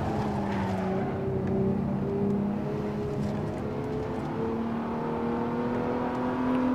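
A race car engine from the Assetto Corsa driving game, heard during a quick test drive, drones steadily and climbs gradually in pitch as it accelerates. It plays alone and fairly loud, with no talking.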